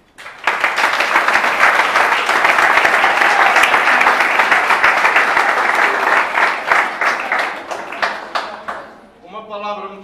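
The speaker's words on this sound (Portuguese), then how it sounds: "Aos atletas todos, uma salva de palmas." A crowd gives sustained applause for the athletes at a sports club's seventh anniversary event, steady dense clapping for about eight seconds that thins out and fades, followed by someone speaking.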